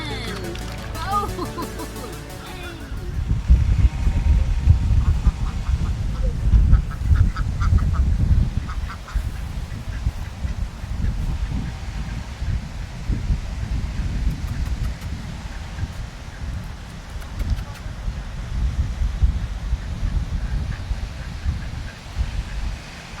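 Ducks quack and honk close by while being fed duck food, a busy, loud jumble of calls that rises and falls over several seconds, with people talking faintly in the background.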